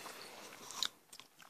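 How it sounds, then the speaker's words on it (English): Gum being chewed close to the mic, a few soft wet crunching bites and smacks in quick succession, quiet and alone. "As you can tell, I'm chewing gum right now."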